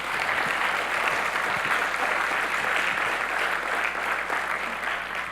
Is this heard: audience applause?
yes